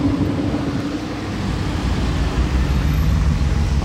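A convoy of supercars passing on a road, heard as a steady, loud rumble of engines and tyres with a faint low hum, rising slightly toward the end, with no talk.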